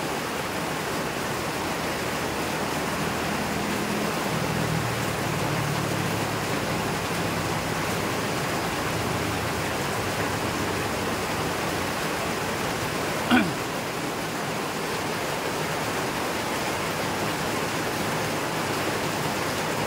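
Torrential rain falls over a flooding house front in the Philippines while a drain is being cleared, a constant loud hiss with a faint low voice murmuring early on and one brief sharp knock later.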